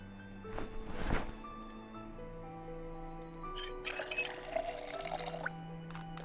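Water pours into a cooking pot in Project Zomboid, a soft running trickle, quiet and steady, over a faint game music bed with a few brighter tones and no speech.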